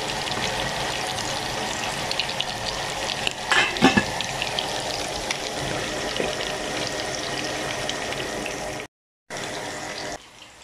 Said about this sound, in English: now I'm going to be frying the meat